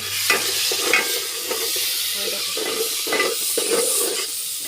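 Vegetables cooking in a pan at night, a close, steady sizzle with rhythmic scraping stirs every second or so and faint clinks of utensil on metal, no one talking.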